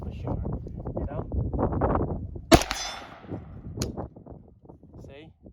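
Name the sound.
gunshots from Cetme Model L 5.56 NATO rifle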